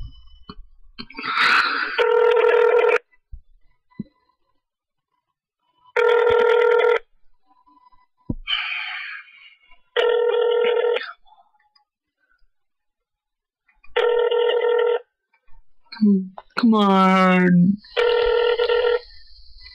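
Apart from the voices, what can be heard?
telephone ringing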